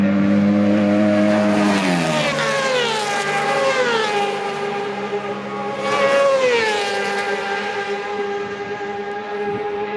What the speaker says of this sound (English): Here are the Supersport on their second qualifying lap.